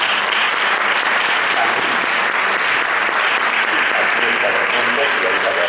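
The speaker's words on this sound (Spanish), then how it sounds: "Un aplauso para ella." A live audience at a talk on the Mexican writer Rulfo applauds to welcome the speaker, a steady, dense wash of clapping that continues evenly and loudly throughout.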